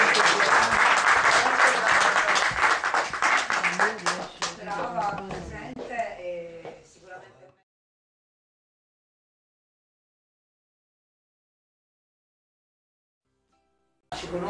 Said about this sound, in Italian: io farei ancora un grande applauso a Giorgia.